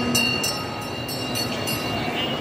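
A kiddie train ride at the Ayala Center shopping mall in Cebu, Philippines, rolls along with a steady rumble and a run of regular, evenly spaced clacks. Mall ambience sits underneath throughout.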